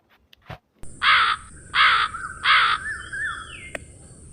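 A cartoon crow in an animated children's story caws three times in harsh, evenly spaced calls, loud and close over a faint background hum.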